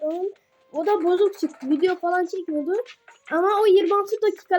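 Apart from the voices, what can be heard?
No everyday noise stands out behind the speech.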